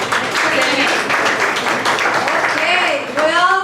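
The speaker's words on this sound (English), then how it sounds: "let's give a round of applause to Dr. Chorizo Menudo" Audience applause at a Dallas LULAC breakfast event, a steady, dense wash of clapping from a crowd that holds through the whole stretch with a brief dip near the end.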